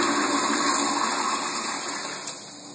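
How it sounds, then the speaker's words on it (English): A toilet flushes in a steady, close rush of gushing water that tapers slightly toward the end, with no voices over it. "Let's see if they flush well."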